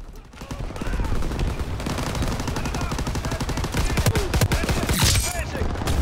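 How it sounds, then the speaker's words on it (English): Rapid enemy minigun fire rattles through a Call of Duty match, dense bursts of gunshots running continuously over several seconds, loud and close, with players talking over it. "The enemy minigun."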